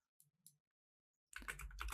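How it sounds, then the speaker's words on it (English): A few light keyboard clicks, then a denser burst of clattering key presses near the end, with no talking. "to add comments, you just press C on the keyboard"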